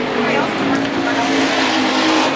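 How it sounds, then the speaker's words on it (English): Pure stock race cars roar around a dirt speedway in a steady, loud engine drone with a hint of tire noise, with a commentator talking over the racing. "Murdoch drifts high, tries to ride the cushion, loses a little time to Virgil MacArthur as the 0-3 got real close to that inside berm."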